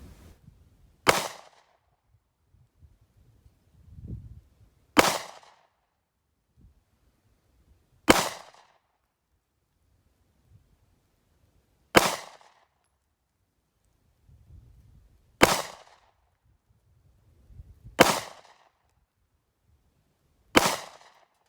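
Seven single handgun shots ring out at a 25-foot outdoor range, each a sharp loud crack spaced a few seconds apart, with faint handling noise between them and no talking.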